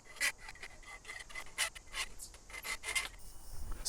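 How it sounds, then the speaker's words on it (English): A hand file rasps along the cut edges of metal pieces for a wood-fired hot tub accessory, a string of short uneven scraping strokes, close and fairly quiet, with no voices. "I cut things out on the bandsaw, refine the edges with a file,"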